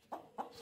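Close, soft clucks from a roughly 100-day-old chicken of about two kilograms, three brief notes spaced evenly apart.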